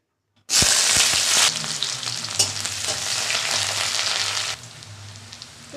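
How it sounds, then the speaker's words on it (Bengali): A loud burst of sizzling as chopped onion and garlic hit hot oil in a wok, settling into steady frying crackle, then fading quieter near the end. "কড়াইয়ের তেল গরম হয়ে গেছে আমি পেঁয়াজ রসুন কুচি দিয়ে দিলাম"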